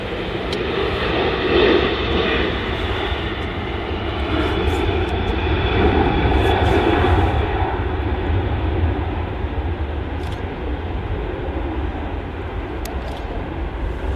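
A Ryanair jet climbing out after takeoff from Manchester Airport, a loud steady engine roar that holds for the whole stretch with a broad rumble and no talk.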